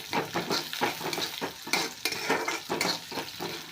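Moong dal being stirred in a frying pan for a methi bhaji, with a steady rhythmic scrape of the spoon over a continuous close sizzle, no voices.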